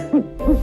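An owl hoots twice in soft, rounded calls, close and moderately loud, over a low sustained tone in a children's alphabet song setting.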